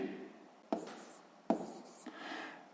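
Pen writing out a sixth-grade maths solution, a few short scratchy strokes in quick bursts separated by pauses, close and fairly quiet, with no voices.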